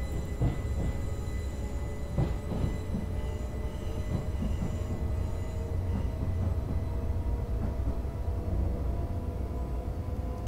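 An S-Bahn train on the Berlin–Wittenberg route in the Train Simulator 2013 game rolls along with a constant loud rumble and faint rhythmic wheel clatter, with no talking over it.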